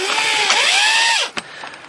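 A power drill drives screws through a shelf bracket in one loud, close burst with rising and falling pitch, then cuts off after about a second and a half, leaving a short click and quiet.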